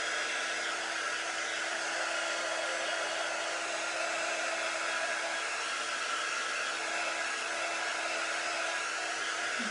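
A hair dryer blows steadily to dry chalk paint on a plant pot, a constant close whooshing hum with no breaks for the whole stretch.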